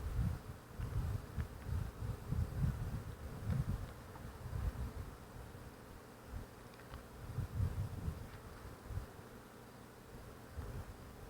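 Honeybees buzz around an opened beehive with plenty of brood, a dense close drone that swells and fades in waves with light wind noise outdoors.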